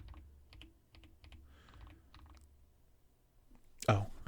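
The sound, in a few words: typing on Tecware Spectre 75 mechanical keyboard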